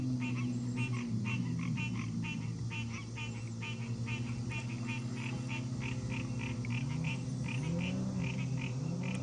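Frogs croak in a fast, steady pulsing chorus that runs throughout, layered over a low droning background, with no talking.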